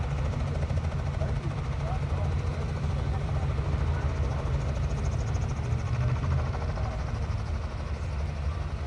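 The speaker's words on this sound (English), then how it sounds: "There's the helicopter. This copter has not turned off since I got here at 10:30 this morning." A helicopter engine runs continuously nearby, a steady dense rumble with a fast rotor throb that never lets up, while a person talks over it.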